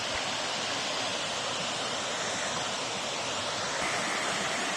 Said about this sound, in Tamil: இந்த ஃபால்ஸ் இருக்கிறது.